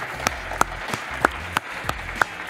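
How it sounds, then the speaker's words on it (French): Audience claps for Pierre-Marie Perrin, public affairs director of Elio, at a civic event in Amiens. It comes as sparse, evenly spaced sharp claps, about eight in a slow steady rhythm, fairly close and moderately loud. "Un applaudissement pour Pierre-Marie Perrin."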